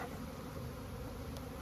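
A dense, steady hum of many honey bees buzzing together inside a hive, close and continuous, with no voices.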